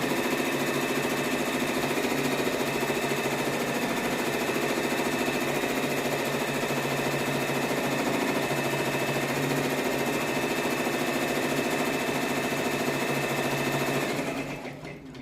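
An embroidery machine stitches a placement line on a baby onesie, a fast, even mechanical whirring and tapping that runs steadily and close for about fourteen seconds before winding down.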